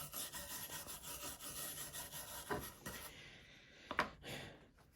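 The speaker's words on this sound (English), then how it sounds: "Okay, so that's cleaning of the rasp." A brass brush scrubs a wood rasp in quiet, repeated rubbing strokes close by, with a couple of sharper scrapes near the end.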